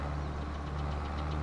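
A Versatile tractor engine in the Farming Simulator 22 video game drones steadily while plowing, a low, continuous, knocking hum with no pauses or talk over it.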